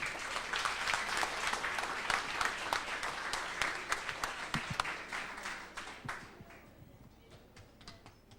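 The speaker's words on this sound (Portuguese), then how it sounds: "Uma salva de palmas para essas pessoas." A room full of people applauding, dense steady clapping that thins out and fades toward the end.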